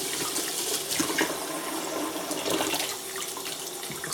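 Cold tap water runs steadily into a glass being filled and rinsed, a continuous close splashing rush with no talking.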